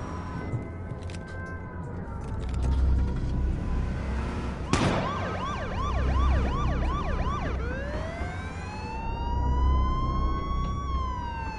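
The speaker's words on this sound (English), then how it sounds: "Police car, let's go." A police car siren in the video game H1Z1 wails and yelps loudly over a low engine rumble, sweeping through rapid cycles before settling into a long rising wail.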